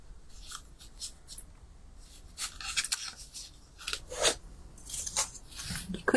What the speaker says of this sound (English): Could just trim it with scissors.